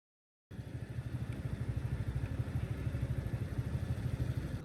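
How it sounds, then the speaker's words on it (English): Motorcycles passing at night on a street in Vietnam, a steady rumbling, throbbing engine drone that starts abruptly after a moment of silence and holds at a moderate level. "just the sound of motorcycles passing by"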